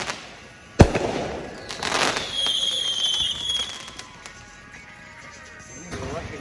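Fireworks going off outdoors, one sharp close bang followed by a crackling burst and whistling trails, then scattered pops fading into the distance.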